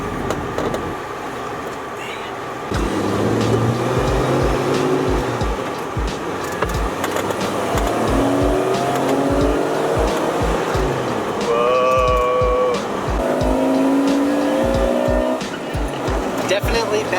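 A Jeep Wrangler driving after an engine rebuild, its engine revving up and down with repeated throttle bursts and tire noise, loud and close throughout, with a person talking at times.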